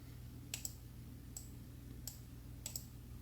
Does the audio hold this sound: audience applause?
no